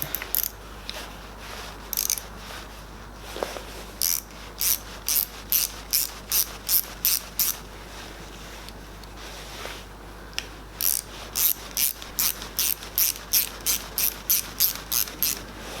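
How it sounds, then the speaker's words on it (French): Ratchet wrench clicking in quick bursts as screws are driven into a DW12 cylinder head, about twenty close, sharp ratcheting strokes in two runs with a short pause between, over a faint steady hum. "Donc maintenant on y vient y visser des vis."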